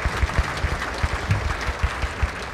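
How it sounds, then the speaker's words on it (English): Applause at a county Republican party dinner for the caterers, a loud, rumbling roomful of clapping with heavy low thumps, steady throughout the short burst. "Let's give a round of applause for the caterers."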